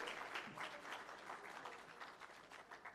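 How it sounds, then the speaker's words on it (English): An audience applauds at a regional public sector leadership development conference opening ceremony, with steady, dense clapping heard at a distance and fairly quiet throughout. "So give yourselves a round of applause."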